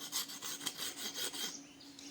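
A knife cuts a small test piece of bark from a cinnamon tree, making a quick series of rhythmic rasping scrapes close by, about eight strokes before stopping, fairly quiet.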